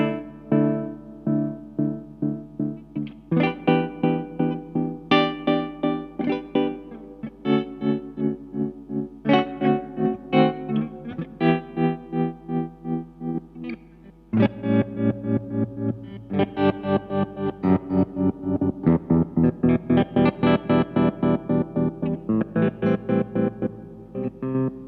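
Electric guitar chords through a Dreadbox Treminator tremolo pedal set to sawtooth waveform pulse with a steady rhythmic tremolo, each swell rising and cutting off sharply in a repeating sawtooth pattern, loud and continuous.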